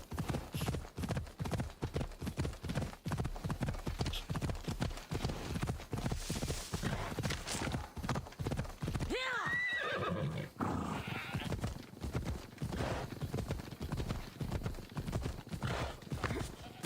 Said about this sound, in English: I always forget that I have the horse.